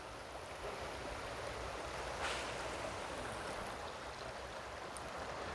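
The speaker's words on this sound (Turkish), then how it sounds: "Bu su böyle geliyor. O az önce size gösterdiğim yerden şelale olarak dökülüp gidiyor." A forest stream rushes steadily toward a waterfall, giving a constant broadband wash of flowing water, close and fairly loud, with no voices over it.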